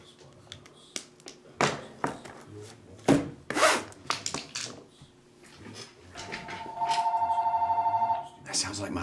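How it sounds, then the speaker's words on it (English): A telephone rings with a rapid trilling bell near the end, preceded by rubbing, handling and tearing noises while people talk. "That sounds like my phone."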